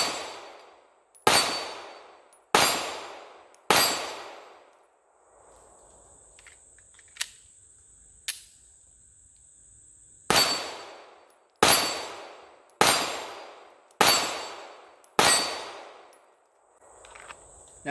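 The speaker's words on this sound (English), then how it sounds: "Now I am shooting at an 8-inch plate. It's about 10 yards away." Smith & Wesson Bodyguard 2.0 pistol fires at an 8-inch steel plate about 10 yards away: nine sharp, ringing shots in two strings, loud and close with metallic decay, separated by a quiet pause with faint handling sounds.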